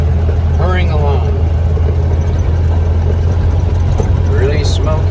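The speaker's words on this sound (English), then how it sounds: "Sure feels good to have the engine running good again." A 1931 Ford Model A engine idles steadily with a low, even rumble throughout, close and continuous, while someone talks over it.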